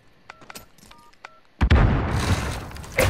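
A bomb is planted in Modern Warfare: a short run of soft electronic keypad beeps, then a sudden heavy burst of noise that stays loud and rough until the clip ends.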